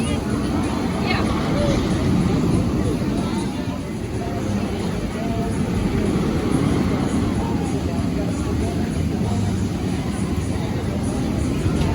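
Thunderbolt roller coaster at Kennywood amusement park: a steady, loud roar of rushing wind and rumbling track that fills the whole stretch without letting up.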